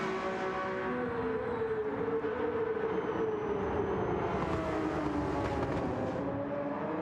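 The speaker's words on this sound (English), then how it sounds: "So you'll hear the cars going around in the background, getting themselves lined on up." Race cars in the Gran Turismo 7 video game, lining up for a six-hour endurance race at Yas Marina, drone faintly in the background with low, distant engine tones that slowly rise and fall.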